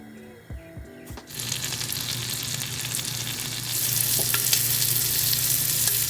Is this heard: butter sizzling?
yes